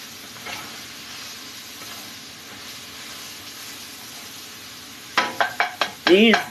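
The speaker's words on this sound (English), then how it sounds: "this onion's caramelizing beautifully" Onion caramelizing in a pan, a soft, steady hiss of sizzling that runs quietly throughout, with a person's voice breaking in near the end.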